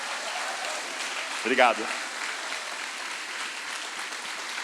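An audience at a church conference applauds steadily throughout as a dense, even wash of clapping. A voice briefly speaks over it near the middle.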